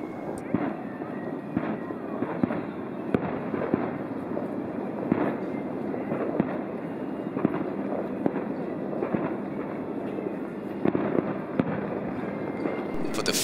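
Fireworks burst over Lake George at a winter evening event, a continuous run of loud cracks and booming pops with steady outdoor rumble and crowd noise underneath.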